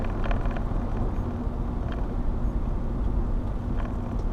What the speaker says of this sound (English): I'm really driving very slow.